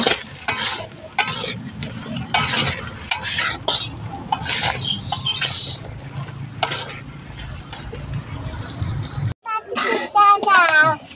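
Turmeric is stirred into food frying in a pan, with a spoon scraping and clattering against the metal in repeated strokes over a low sizzle. A voice speaks briefly near the end.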